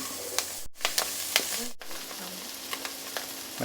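Small freshwater shrimp stir-fried over high heat with chili and salt in a wok, a steady close sizzle broken by sharp scrapes and clinks of a spatula, with no talking.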